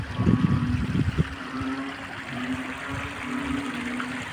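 Floodwater flows steadily over a submerged rice field, a soft continuous rush and trickle with a faint low hum underneath, slightly busier at the start.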